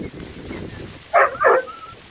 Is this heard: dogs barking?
yes